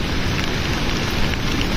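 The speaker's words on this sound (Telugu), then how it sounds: "Mumbai water fall." Heavy rain near Kumbhe waterfall in Maharashtra forms a dense, steady roar of water, broad and loud throughout with no voices.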